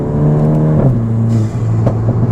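A Volkswagen MK8 GTI with a DSG gearbox blips its engine on a paddle downshift, the steady drone of the motor jumping in pitch with a short rev before settling back, close and fairly loud.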